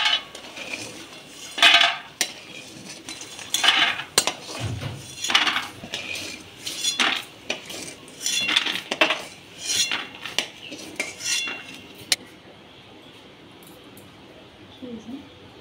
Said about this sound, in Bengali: বড়িগুলোকে আমি লাল লাল করে ভেজে নিয়েছি, এবার তুলে নিচ্ছি।